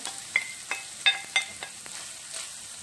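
Bell peppers and meat sauté in a pan with onions, a soft, faint sizzle broken by scattered light clicks and stirring scrapes, with no talking.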